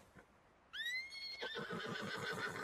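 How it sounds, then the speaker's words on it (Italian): An Arabian horse in the video game Red Dead Redemption 2 gives a loud, rising whinny that trails into snorting, fluttering breaths, close and clear over a quiet background. "Ok, quindi adesso il cavallo è mio."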